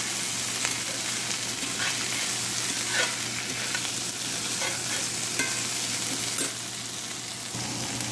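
Steamed rice cake (char koay kak) is stir-fried in a pan, with a constant close sizzle and rustling, scraping stirring strokes throughout.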